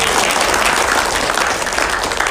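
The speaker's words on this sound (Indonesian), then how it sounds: "Tepuk tangannya kurang keras Bapak Ibu." Audience applause fills a corporate event hall after a CEO's introduction, a dense, steady roar of clapping hands that runs loud and unbroken.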